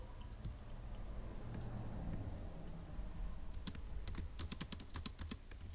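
Typing on a computer keyboard, quiet at first and then a quick run of distinct key clicks near the end over a low background hum.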